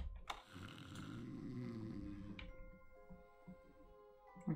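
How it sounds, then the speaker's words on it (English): A guard snores in the stealth game Thief, heard as a faint, slow, drawn-out rumbling breath followed by quieter ambient tones and soft clicks. "Is somebody snoring?"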